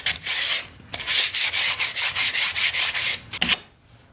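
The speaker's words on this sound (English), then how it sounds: "I'm just going to clean up the edges with some sandpaper." Wooden edges being hand-sanded with sandpaper, a close series of rhythmic rasping strokes, about a dozen even back-and-forth passes with brief pauses, loud and alone with no voices.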